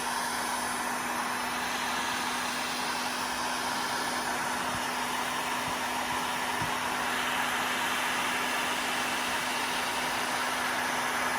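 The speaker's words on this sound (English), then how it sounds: "I have the heat gun on, I think, near the hottest setting." A heat gun runs near its hottest setting while warming parts of a Traxxas Canyon Trails RC crawler, making a loud, steady, close blowing roar with a constant hum that holds unbroken throughout.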